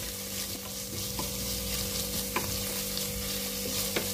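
Tomatoes and onion fry together in a pan with a continuous bright sizzle, and occasional spoon scrapes and taps cut through up close. No one speaks.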